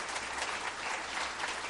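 A church congregation applauds together, a brief, steady patter of many hands clapping at moderate distance with no break.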